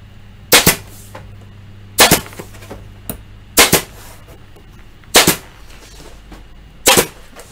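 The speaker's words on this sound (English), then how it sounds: "So these are a stainless steel staple. like an upholstery staple, a wide crown variety." A staple gun fires stainless steel wide crown upholstery staples into a wooden cathedral frame. There are five sharp, loud snaps at roughly even intervals, with quiet between them.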